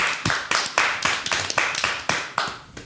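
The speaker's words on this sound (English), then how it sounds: "so I'm going to clap it up for him" Sharp hand claps, about ten of them in a quick steady rhythm, close and distinct, each a crisp slap that decays briefly before the next.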